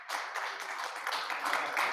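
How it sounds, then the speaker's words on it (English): Audience applause at a fundraising seminar, a soft, continuous patter of many hands clapping somewhat distant in the room, steady throughout. "Can we have another applause for"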